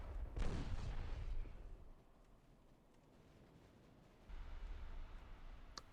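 Naval guns fire in a steady barrage during a warship battle in the game Ultimate Admiral Dreadnoughts, booming loudly, easing to a low rumble, then swelling again with a fresh salvo near the end.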